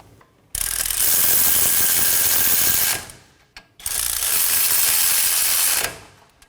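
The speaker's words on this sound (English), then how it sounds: "Now hand thread on your two 22mm bolts. Now snug them down." A ratchet drives down two 22mm bolts on a 2015-2023 Nissan Maxima front wheel hub assembly, two loud sustained runs of fast clicking, each about two and a half seconds, separated by a short pause.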